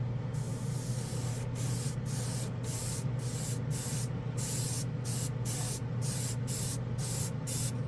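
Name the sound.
airbrush spraying metallic aluminum paint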